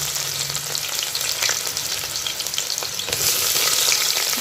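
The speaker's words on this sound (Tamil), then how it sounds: "இந்த வெங்காயத்தை நல்லா வதக்கிக்கிறோம்" Steady, loud sizzling of chopped onions sautéing in hot oil for a country chicken curry, a dense crackling hiss that swells slightly near the end, with no talking.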